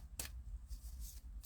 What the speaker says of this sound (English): I'm going to draw an advice card